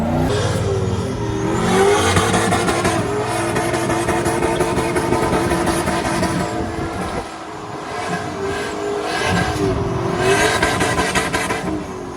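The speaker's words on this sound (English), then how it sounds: "Rev limiter." A 2007 Chevrolet Silverado 1500 single cab short bed drift truck with a turbocharged 5.3 V8 and T56 gearbox revs hard and bounces off its rev limiter, a loud, sustained engine roar that dips briefly and climbs again.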